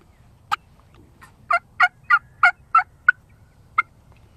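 A turkey hunter's mouth call imitates a hen for a gobbler, giving a sharp lone note followed by a quick run of about six raspy yelps and one final yelp, close and clear over quiet outdoor background.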